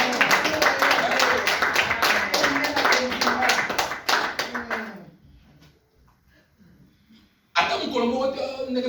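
A church congregation claps to acclaim Jesus, a fast loud run of many hands for about five seconds, then near silence before a voice resumes.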